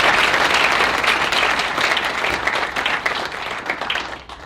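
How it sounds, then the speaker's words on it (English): An audience claps loudly after a seminar, a dense, sustained round of applause that fades out at the close. "All right, we should give John a hearty round of applause."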